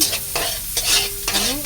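Chayote sautéing with glass noodles in a pan, stirred with a utensil: loud close sizzling broken by three or four scraping strokes, with no talking.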